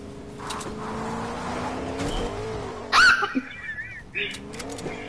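A car driving in the Fortnite video game, a steady engine drone under a talking voice, with a brief louder surge partway through.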